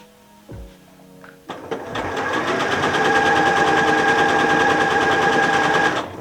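A sewing machine runs a curved seam on a reverse appliqué heart cushion cover, rising after a few clicks into a steady rapid rattling stitch, close and fairly loud, then slowing at the end.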